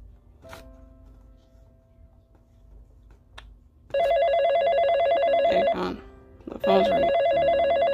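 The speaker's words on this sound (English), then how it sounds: "Phone's ringing." A telephone rings in two long loud bursts of electronic trilling, separated by a brief pause, after a few seconds of quiet.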